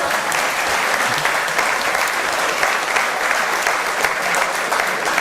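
A large audience at a French political conference applauds steadily for several seconds, a dense, even wash of many hands clapping with no pause, loud and close throughout.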